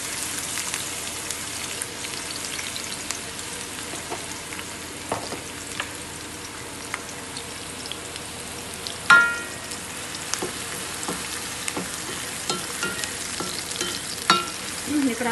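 Onions frying in a pan for country chicken biryani, a steady close sizzle with scraping stir strokes and occasional sharper clinks, no talking.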